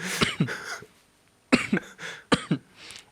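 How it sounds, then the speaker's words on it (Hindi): A person coughs in two short bursts, a couple of harsh hacks each, close by with a brief pause between. "इसके बाद खांसी आ रही।"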